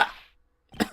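Character coughing in the game Phoenix Wright: Ace Attorney Trials and Tribulations, two short harsh coughs separated by a brief pause, close and fairly loud.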